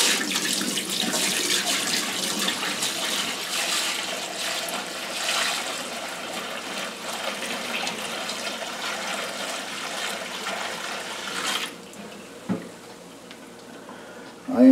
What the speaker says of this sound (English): I'll be dumping the whey and the curd into the colander as soon as I'm ready to do that.